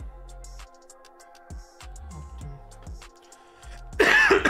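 A short burst of throat clearing and coughing near the end, during assembly of a Tamiya Super Avante RC car, after a stretch of quiet with soft clicks and a low hum.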